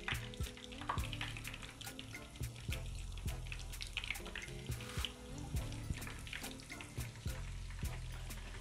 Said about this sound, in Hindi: चिकन को फ्राई करने के लिए मैंने ऑयल गर्म होने के लिए रख दिया था।